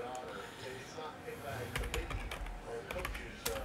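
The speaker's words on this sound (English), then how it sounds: "And I'm going to type it in here." Someone types on a computer keyboard during a sports trading card box break, a quick run of close, light clicks that thickens in the second half, with faint talk in the background.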